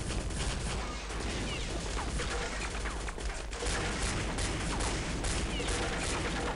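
Dense, continuous automatic gunfire in Counter-Strike: Condition Zero Deleted Scenes, rapid overlapping shots in a loud, sustained volley with no pauses and no talking.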